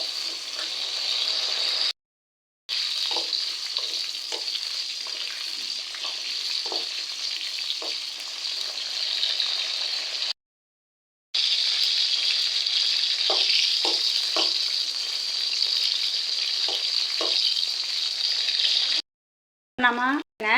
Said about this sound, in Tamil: நல்லா ஒரு 15 நிமிஷம் நல்லா ஃப்ரை ஆகுதுங்க.